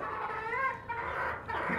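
Fancy chickens on a rooftop give steady close clucking, with overlapping calls from several birds.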